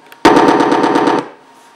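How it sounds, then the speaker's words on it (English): An RC plane's Aero sound module fires a simulated machine gun, a single loud burst of rapid, evenly spaced shots lasting about a second, heard alone before a quick fade. "the machine gun just wouldn't fire hooked to this switch"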